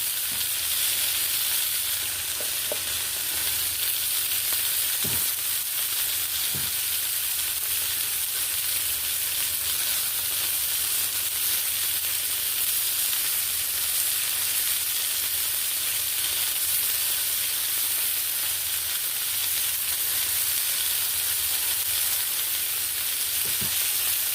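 Chicken drumettes coated in barbecue sauce sizzle on a Blackstone griddle, a continuous close hiss and crackle with occasional pops, no talking.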